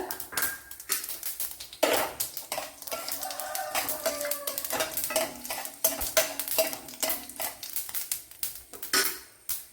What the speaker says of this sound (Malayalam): ഇവിടെ വെളിച്ചെണ്ണ ഒഴിച്ചു കൊടുത്തിട്ടുണ്ട് കടുക് ഇട്ട് കൊടുത്തിട്ടുണ്ട് ഇനി വറ്റൽമുളക് ഇട്ട് കൊടുക്കുക